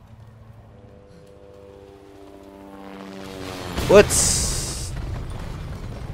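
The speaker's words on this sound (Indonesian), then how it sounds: "Ada suara helikopter jatuh." In Resident Evil 2, a helicopter's approaching roar builds from faint to loud before it crashes in a single heavy boom, followed by rumbling debris. A player briefly speaks over the sound.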